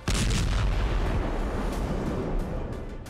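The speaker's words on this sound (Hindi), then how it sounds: "इसराइली टैंकों ने हमास के वेपन डिपो पर शेलिंग की है" Heavy shelling by Israeli tanks on a Hamas weapons depot gives a continuous, loud, rumbling roar of blasts and crackling fire that stays dense and booming throughout, with no voices.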